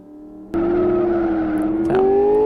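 Stock cars race past in the Live for Speed sim during a safety car period at Phoenix, a steady loud engine drone that rises slightly in pitch as another car closes and passes, alone with no talk.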